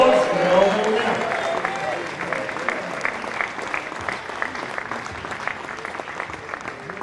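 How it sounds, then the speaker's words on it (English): Audience applause at a boccia national championship gold medal presentation, a steady wash of clapping from a crowd that starts strong and gradually thins, with a voice faintly underneath. "Round of applause for the gold medal winner."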